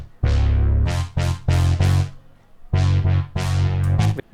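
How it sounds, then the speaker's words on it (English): Two layered pop basses, a synth bass with its lows EQ-cut below about 190 Hz, play sustained chord notes in short phrases with brief gaps, loud and alone. "So I brought in this EQ to cut the lows till about 190 Hz, and both our basses sound like this together."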